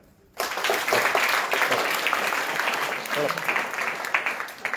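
An audience at a children's foundation celebration in Davangere bursts into sustained clapping after a brief quiet start, dense and fairly loud, with voices mixed in.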